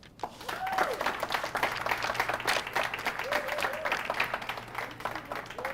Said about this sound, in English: please give a round of applause for Ayanna Pressley